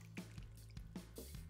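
Liquid poured over chicken and sausage in a slow cooker, a few soft wet drips and squishy splashes arriving in an irregular rhythm, quiet and close, over a low steady hum.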